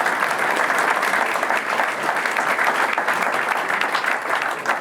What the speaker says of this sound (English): Can I get again applause for all those riders?